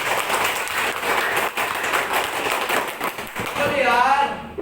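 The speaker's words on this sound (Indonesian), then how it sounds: "Tepuk tangan hasil karya kamu." Classroom clapping from students praising a classmate's work, a burst of scattered hand claps mixed with voices and chatter, fading out at the end.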